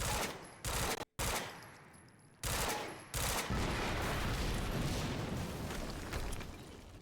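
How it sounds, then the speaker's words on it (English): A loud, sustained explosion in the video game Quantum Break, erupting in heavy bursts that roar and rumble continuously, with brief cutoffs early before settling into a long, dense blast that slowly decays. "HQ, we just heard an explosion near the harvesting perimeter"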